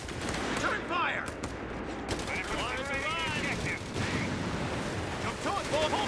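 Battle sounds from Company of Heroes 3, a late-game clash between US Forces and Wehrmacht with heavy armor, play as steady gunfire and artillery volleys. Shouted voices and radio chatter run over the dense, constant din.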